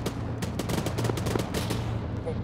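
Rapid bursts of automatic gunfire from a military video game, sharp repeated shots in quick volleys with some single cracks, close and loud throughout.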